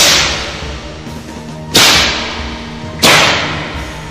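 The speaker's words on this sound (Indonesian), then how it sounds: "maka meledaklah suara cambuk gembala tua itu" Two sharp crack of an old herdsman's whip ring out alone, a couple of seconds apart, each loud and snapping before fading into a steady background hiss.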